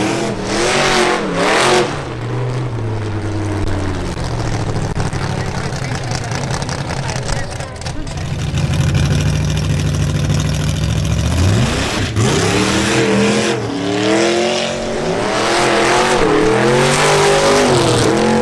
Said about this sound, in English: Now presenting Ernesto Bush, testing his new project car, a powerful Chevrolet Corvette.